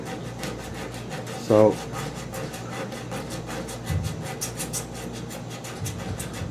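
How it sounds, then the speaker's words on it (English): A surface is sanded by hand before applying JB Weld epoxy, giving a close, steady rasping rub with a brief louder scrape; someone speaks a single word. "basically I'm just sanding it down just a little bit, give it a little bit of a rough edge"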